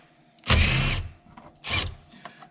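Two short whirring bursts from a power tool spinning out 10mm bolts, close by, separated by a brief pause with faint clicks in between.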